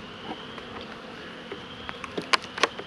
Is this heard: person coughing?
no